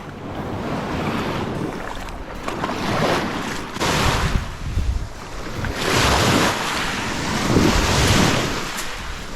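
Ocean waves roll in and wash over a beach of small rocks, a steady loud surf with swelling crashes, heavy wind buffeting the microphone throughout.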